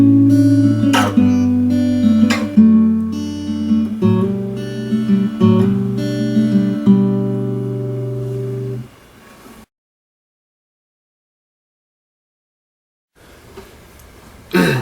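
Acoustic guitar plays a song, strummed chords and picked notes ringing steadily for about nine seconds, then stopping into silence before a brief soft return near the end.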